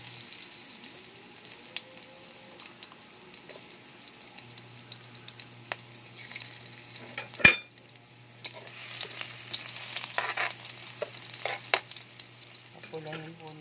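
Garlic fries and is stirred in a pan for a home-cooked dish, a soft crackling sizzle near the microphone with scattered utensil scrapes and one sharp clatter in the middle, with no speech.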